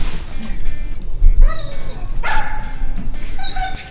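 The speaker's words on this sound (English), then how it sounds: "Well, now we have a dog." A dog nearby gives a few short, high yips and whimpers, spaced out over a couple of seconds, above low room noise during a house setup.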